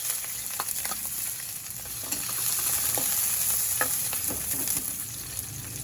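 Sliced onion sautés in a hot pan, giving a loud, steady sizzle with a few light stirring clicks and scrapes throughout; no one talks.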